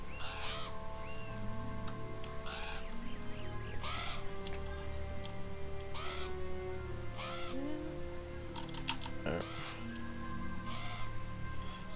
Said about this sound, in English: there's crows around me, so now everything's like weird colored.